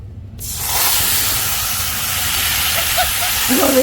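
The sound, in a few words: spices sizzling in hot oil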